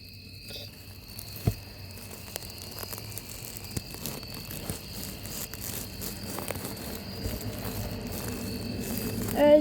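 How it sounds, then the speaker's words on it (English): A cricket chirps steadily in thick forest undergrowth, a thin high continuous trill sitting over faint rustling and scattered small ticks close by. "And there's a cricket."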